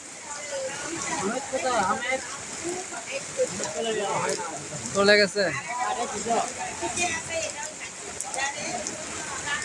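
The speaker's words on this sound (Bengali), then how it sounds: "দেখেন ক্যাম্পে কি পরিমাণে বৃষ্টি হচ্ছে দেখেন" Heavy rain pours over a camp in Kamdia as a steady, dense hiss that runs throughout while someone talks over it.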